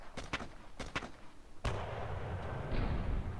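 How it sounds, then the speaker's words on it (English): Naval guns firing in the wargame Panzer Battles North Africa 1941: several sharp booming shots in quick succession, then a heavy blast that trails into a long, loud rumbling roar. "There goes those naval guns."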